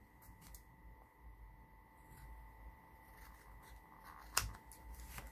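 Scissors make quiet snips while trimming a plaid stocking-shaped gift card holder, faint and close, with one sharper cut standing out near the end.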